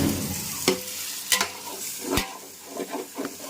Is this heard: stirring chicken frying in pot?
yes